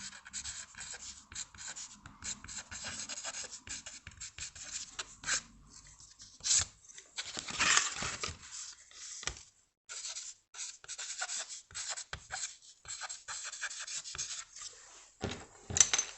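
Charcoal scratching and rubbing across a drawing board in short, irregular strokes, close and dry with brief pauses between bursts of scribbling.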